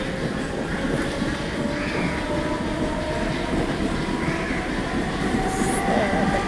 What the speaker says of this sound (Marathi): ट्रेन गेलेली आहे.